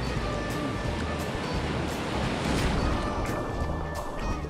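Ocean surf at a break in Siargao, Philippines, a steady wash of breaking waves with wind and occasional louder crashes, heard from out in the water with no talking.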